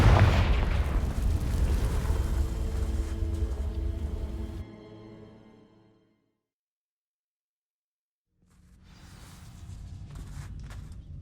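A fiery Confringo spell blast in Hogwarts Legacy, a video game, roars loud and dense for several seconds, then cuts to near silence before a rumbling burst of game sound returns.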